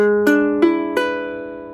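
A guitar is strummed three times in quick succession, each bright chord ringing out and slowly fading, close and clear with no voices.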